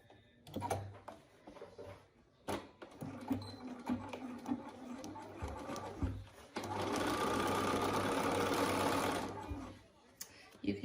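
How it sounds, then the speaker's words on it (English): Quick rattling stitching of a sewing machine in short bursts, then a longer steady run of rapid clatter, with soft handling noises around it. "I like to do the first part of it on my sewing machine"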